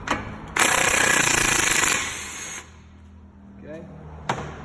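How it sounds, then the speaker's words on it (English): Snap-on battery-powered impact gun hammering on a lower control arm bolt of a 2006 Ford Fusion SEL, one loud, close burst of rapid rattling impacts lasting about two seconds, then winding down, followed by a short metallic clank. "I'll grab a snap-on battery-powered impact gun, and we'll hope it has enough power to do this."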